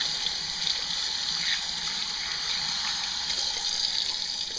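Squid tentacles rinsed under a running tap: a steady, close, broadband hiss of flowing water that runs unbroken and alone, with no talk.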